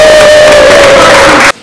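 A live crowd at a music show roars and cheers loudly, with a steady tone running underneath, before the sound cuts off abruptly.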